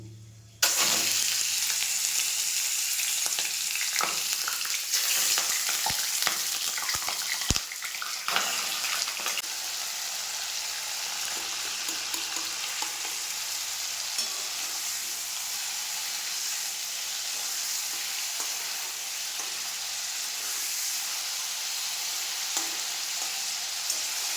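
Oil and aromatics sizzle steadily in a pan before chicken goes in, a dense, continuous hiss broken by a few sharp clicks and stirring scrapes early on, close and loud throughout.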